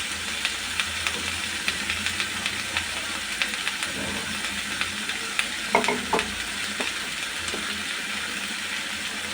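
Raw tomato and green chillies frying with mixed vegetables for a fish curry, a continuous sizzle punctuated by scattered stirring clicks and a louder scrape midway, heard up close without speech.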